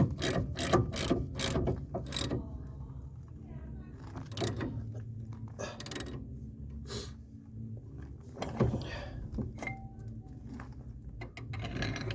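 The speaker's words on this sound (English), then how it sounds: "now this one I'm just gonna use like a little wrench or something to put a little bit of pressure in here" Ratchet wrench clicking in quick bursts while working on the suspension of a 2012 Dodge Charger, with pauses and metallic handling noises between runs of close, rhythmic clicks.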